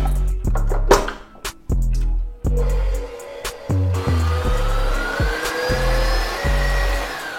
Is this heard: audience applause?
no